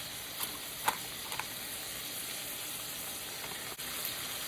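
Sofrito sizzling in a frying pan while making empanadas, a quiet steady hiss with a few soft pops and clinks, fairly faint and uninterrupted.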